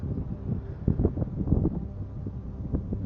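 Desert wind buffeting the microphone, a low, gusty rumble that rises and falls steadily with no other sounds.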